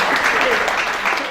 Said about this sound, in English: I have to clap with you.